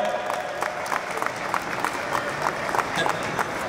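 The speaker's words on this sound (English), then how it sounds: "give a big round of applause" Audience applause at the inauguration of a coworking space in Thane, steady scattered clapping from a crowd throughout, moderately loud with faint murmur.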